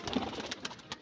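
A Kasuri pigeon gives a short, soft coo, faint and close, with a few quiet pulses over about a second.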